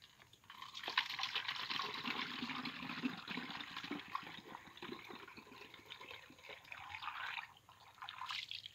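Water poured from a plastic bottle of about one litre during a classroom volume and capacity lesson, a continuous splashing, gurgling pour lasting several seconds, fairly close and alone, with no one speaking.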